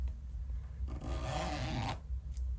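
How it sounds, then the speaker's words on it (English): A small zipper on a handmade toy jacket is pulled in one smooth, raspy stroke lasting about a second, close and quiet, with soft handling sounds before and after. "Look at our little zipper working."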